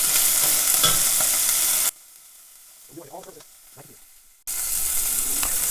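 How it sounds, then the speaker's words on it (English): Pork tenderloin searing in grapeseed oil, a loud steady sizzle and hiss that cuts out midway, leaving a quiet stretch with a few faint clinks before the strong frying resumes. "we are just going to sear this meat until it's nice and brown all over"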